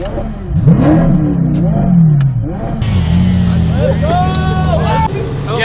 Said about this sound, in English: just had to one up the McLaren by revving